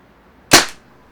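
A single sharp, loud pop from a Tippmann Cronus paintball marker firing a 4-gram rubber ball, a sudden crack that decays quickly into silence.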